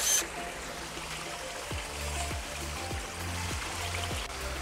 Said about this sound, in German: sitze quasi mitten im Wasserfall auf so einem Felsen